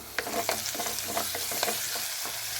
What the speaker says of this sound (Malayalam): ഇനി ആവശ്യത്തിനുള്ള കറിവേപ്പില കൂടി ചേർത്ത് നന്നായിട്ടൊന്ന് വഴറ്റിയെടുക്കാം